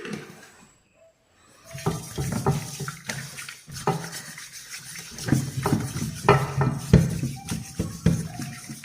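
Sardines being washed by hand in salted water in a kitchen, with irregular splashing, swishing and dripping close by, starting after a brief quiet moment and continuing steadily.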